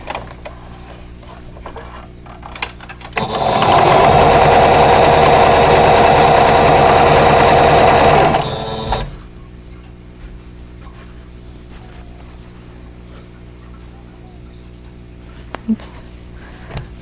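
Sewing machine running steadily for about five seconds while stitching rows of a vintage Honey Bee quilt block together, a loud continuous whirring hum that starts and stops abruptly, with quiet room sound before and after.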